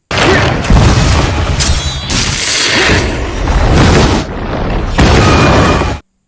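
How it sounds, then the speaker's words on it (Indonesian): Loud, heavy booms and rolling blasts as explosive arrows blow up the dragon monster Rathalos in an action film, several deep bursts in quick succession that end abruptly. "Dan satu panah terakhir diarahkan ke tenggorokannya yang sudah berlubang hingga membuat Rathalos meledak di bagian dalam tubuhnya"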